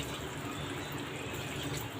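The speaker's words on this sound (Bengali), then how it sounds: "এখন একটু পানি দিয়ে দিব।" Water poured into a cooking pot while hilsa fish cooks, a steady continuous splashing rush that stays even for the whole moment, with no talk.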